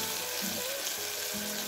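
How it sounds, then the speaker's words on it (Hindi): Ginger garlic paste frying in a pan with tomato and onion, a steady close sizzle with brief stirring scrapes, heard alone without talk. "अदरक लहसुन का पेस्ट जो है उसका कच्चापन जाने तक भूनना है 2 मिनट तक"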